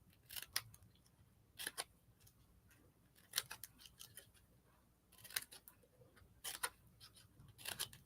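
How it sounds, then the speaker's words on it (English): Scissors snipping small V-shaped pieces out of paper for a collage, a series of crisp, close, quiet cuts in short clusters with pauses between, no talking. "I'm going to cut them out down here so they're not falling on the, just going to cut out these little, all those little V's"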